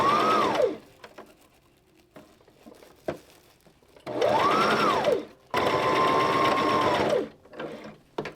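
A sewing machine stitches along fabric lining in three bursts, each whirring run rising and falling in speed, with quiet pauses and small clicks between runs.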